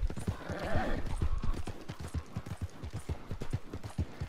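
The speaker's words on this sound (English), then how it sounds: "enough with my trusty steed, Shadow, I think his name." Horse hooves trotting in the video game Red Dead Redemption 2, a brisk, even clip-clop of steady beats heard close and loud, with a brief snort or breathy horse noise early on.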